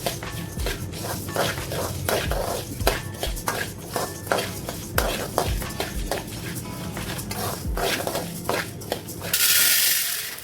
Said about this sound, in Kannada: ಮೊದಲು ಕೊತ್ತಂಬರಿ ಬೀಜ ಫ್ರೈ ಮಾಡುವ ಇಲ್ಲಿ ಕಾಲು ಕೆ ಜಿ ಕೊತ್ತಂಬರಿ ಬೀಜ ತಗೊಂಡಿದ್ದೇನೆ ಇದನ್ನು ಕೂಡ ಲೋ ಫ್ಲೇಮಲ್ಲಿ ಪರಿಮಳ ಬರುವವರೆಗೂ ಫ್ರೈ ಮಾಡ್ತಾ